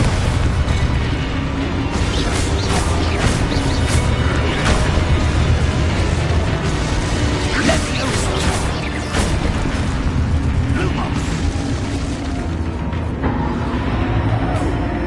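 Repeated booming explosion spells in the video game Hogwarts Legacy, a dense run of loud bursts and blasts over continuous battle noise, while a voice calls out spell names.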